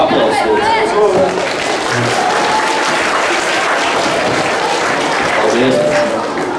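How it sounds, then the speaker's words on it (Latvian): Audience applause at a school aerobics day for 5th and 6th graders, dense continuous clapping mixed with crowd chatter, steady and loud throughout with a few voices and whistles rising above it. "Aktīvāk aplausos."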